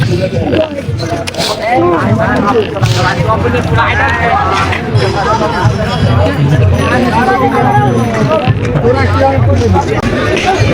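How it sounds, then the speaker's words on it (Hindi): Dense crowd hubbub at a busy New Year temple fair at the Manokamana temple, a steady wash of many overlapping voices and chatter close around, with a nearby voice talking over it throughout. "देखियो कते भीड़ छै।"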